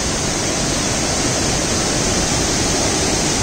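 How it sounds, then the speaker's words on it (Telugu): Steady, loud rush of flowing water at Lambasingi, a dense broadband roar that holds unbroken and close throughout, with no voices over it. "వాటర్ సూదింగ్ సౌండ్ చాలా హాయిగా ఉంది"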